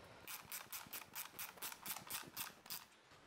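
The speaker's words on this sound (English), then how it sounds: "use a 14 and 17 spanner combination to tighten up the front" A spanner ratchets a nut tight on the front wheel of a FunBikes MXR 500w electric bike, giving a quiet, close, rapid run of about a dozen evenly spaced clicking strokes.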